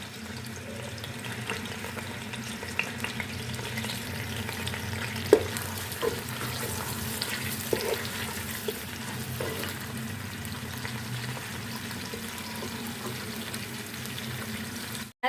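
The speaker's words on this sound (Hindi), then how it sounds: "और प्याज को हम फ्राई कर लेंगे।" Oil sizzles steadily as onions fry, a continuous crackling hiss with occasional clinks of stirring; no one speaks.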